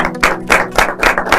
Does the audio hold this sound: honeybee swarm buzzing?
no